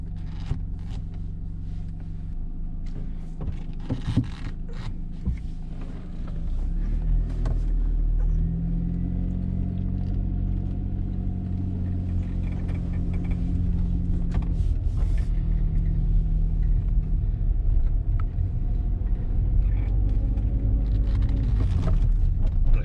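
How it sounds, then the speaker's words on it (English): A car on a short test drive around the block after a budget MOMO replica gear knob install, its engine hum and road rumble steady and fairly loud throughout, rising slightly as it pulls away. "So I'm going to take it for a test drive now"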